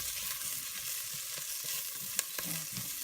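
Onions caramelize in a pan on medium heat for Southern okra and tomatoes, a steady close sizzle with a few soft scraping stirs and light clinks.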